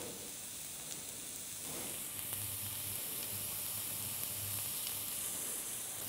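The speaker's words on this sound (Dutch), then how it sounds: "Zo, dit gaat even lekker bakken" Chopped onion, ginger, garlic and chili pepper sizzle in a frying pan over moderate heat, a steady close hiss and crackle that continues without a break.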